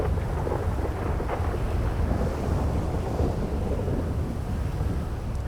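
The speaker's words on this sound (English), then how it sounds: "We're getting full-on thunder and lightning" Heavy pouring rain hisses constantly in GTA 5 Online, with low rolling thunder rumbling underneath throughout, loud and dense, with no voices.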